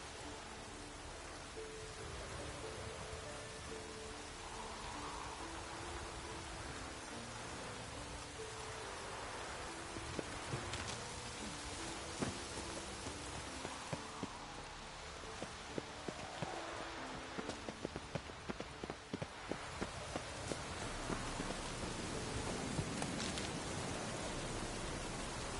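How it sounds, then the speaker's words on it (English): Steady broadband rain hiss in a Witcher game world, continuous and moderately loud for the whole stretch, with a low tonal music bed underneath and scattered sharp ticks and clip-clop-like knocks from the middle onward. "Looks like rain."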